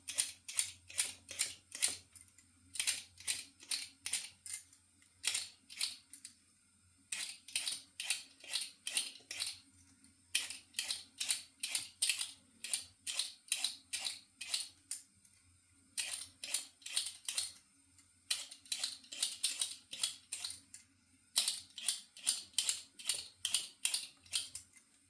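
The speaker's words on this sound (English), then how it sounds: "I'm going to start by peeling 2 large potatoes" Two large potatoes are peeled for a lamb hotpot with quick, crisp scraping strokes in rhythmic bursts of several passes each, separated by short pauses, close and fairly quiet with no talking.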